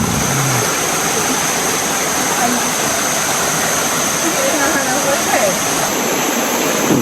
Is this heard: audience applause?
no